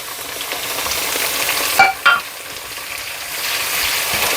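Onion, peas and capsicum stirred and fried in a pan for pav bhaji, a continuous close sizzle broken by two quick scraping stirs of a spatula near the middle.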